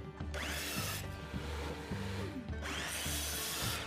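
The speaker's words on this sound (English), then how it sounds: "I'm now cutting the legs and the stretchers for the two main bases." A power saw cuts wooden legs and stretchers to size for a miter saw station, with several separate cutting passes, each a whining spin-up and rasping bite through the wood followed by a spin-down, fairly close and moderately loud.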